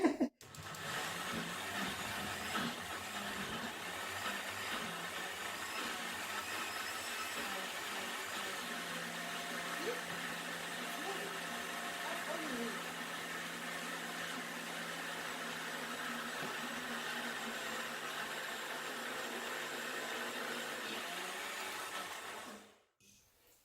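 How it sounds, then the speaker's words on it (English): An electric blender whirs continuously as its blades whip beans into a paste for Nigerian moi moi, a steady loud motor drone that holds for about twenty seconds before cutting off abruptly. "the more the blades of the blender will be able to whip the beans into a paste"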